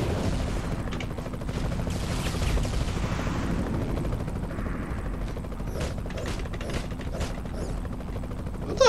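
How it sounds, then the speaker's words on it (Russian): A helicopter breaks apart in the Iron Man video game, a dense mechanical clatter of grinding, rattling metal and rotor chop that holds steady and loud over several seconds without talk. "Давайте посмотрите, как вертолет ломается."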